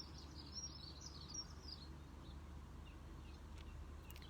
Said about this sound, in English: And just tuning in here now to the sounds of the birds.